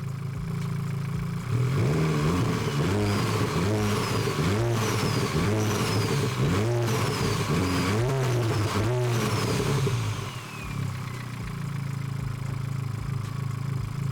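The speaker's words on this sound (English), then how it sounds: "Hold up, let me give y'all one rev." A built-motor Honda Civic Type R with a suspected engine problem revs up hard in a series of rising and falling blips, loud and close, then falls back to a rough idle.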